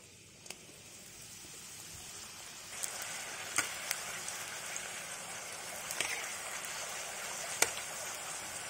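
Papdi dough pieces fry in very hot oil, a soft, continuous bubbling sizzle with occasional faint pops and clinks, fairly quiet throughout.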